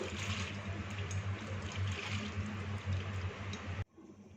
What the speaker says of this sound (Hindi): ये 3 गिलास पानी थोड़ा थोड़ा करके ऊपर से शामिल कर देंगे।